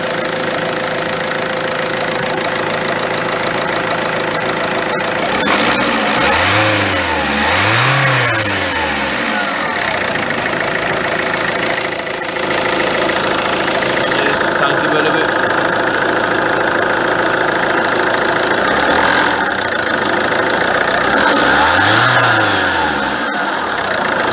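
A car engine with a faulty alternator pulley idles steadily, then revs up sharply twice in quick succession, settles, and revs once more near the end; close and loud.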